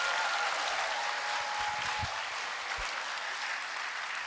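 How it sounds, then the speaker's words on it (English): Sustained audience applause fills a school assembly hall at Brookline High School, a steady dense patter of many hands at moderate level, holding evenly throughout with no voices on top. "Can we get one more round of applause for all the speakers?"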